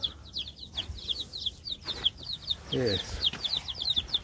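Many seven-day-old chicks chirp rapidly in high, repeated peeps close by, while a person speaks briefly and some handling noises occur.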